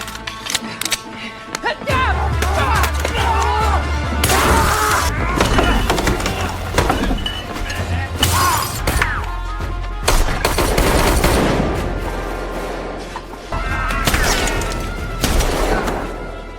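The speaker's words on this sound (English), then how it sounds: "an intense and deadly battle sequence begins, wherein Kate uses her skills to shoot all the assassins sent after her." Heavy gunfire erupts through an action movie battle as a woman fights off a wave of assassins, with dense volleys, sharp bursts and booming impacts over a deep rumbling score, loud and nearly continuous for the whole stretch.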